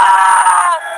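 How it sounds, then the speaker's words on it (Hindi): A man's scream in a dramatized Hindi witch horror story, a loud sustained strained cry that wavers and fades slightly toward the end, heard alone without other talk. "तभी गोपी की चीखने की आवाज आती है।"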